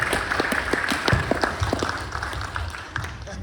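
Audience applause at a historical talk in St Marys, a room of clapping hands that stays steady and fairly loud throughout, with a few faint voices mixed underneath.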